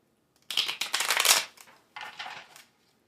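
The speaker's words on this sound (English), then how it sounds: "Just me shuffling and fucking splitting the cards." Tarot cards are shuffled and split in two brisk riffling bursts, with a short pause between them, heard up close in an otherwise quiet room.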